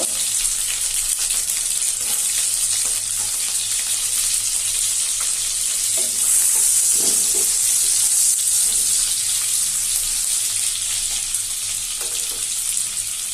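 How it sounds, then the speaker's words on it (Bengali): Capsicum and onion frying in a pan for chicken chilli give off a steady, loud sizzle with broadband hiss, joined by a few brief stirring scrapes partway through. "অল্প একটু ভাজা হয়ে গেছে, আমি ক্যাপসিকামগুলো দিয়ে দিব।"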